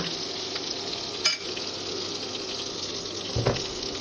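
Ground chilli and Kashmiri chilli powder sizzle in oil in a wok while being stirred, a soft steady frying hiss with a couple of brief scraping clinks from the spoon, no talking.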